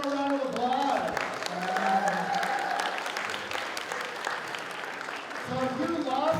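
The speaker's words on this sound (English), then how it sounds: "Let's give him a round of applause." A school audience applauds in a hall: continuous crowd clapping that holds steady for several seconds, with voices talking over it near the start and end.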